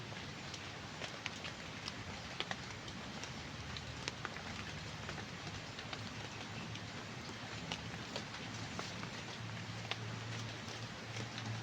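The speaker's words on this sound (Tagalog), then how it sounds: "so yung mga lods no laging umuulan dito" Steady rain falls outdoors as a dense, even hiss with scattered sharper drops tapping nearby surfaces, continuous throughout with no voices.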